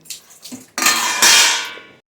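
A metal dinner plate clangs as it is set out for a meal, two soft clinks followed by a loud ringing clatter that sustains and fades over about a second.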